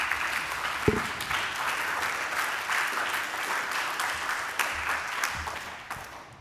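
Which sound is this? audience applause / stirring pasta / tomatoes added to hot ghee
audience applause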